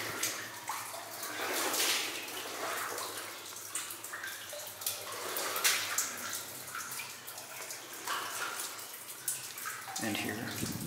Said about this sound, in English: There's a fair amount of water dripping down here.